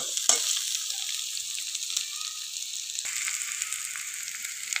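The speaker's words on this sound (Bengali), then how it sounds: "রসুনের কাঁচা গন্ধটা যতক্ষণ না যাচ্ছে ততক্ষণ এটা আমি ভালো করে ভেজে নেবো।" Chopped garlic fries in hot oil for a fish curry, giving a loud, dense, continuous sizzle with a sharp burst at the start and a brief stir partway through.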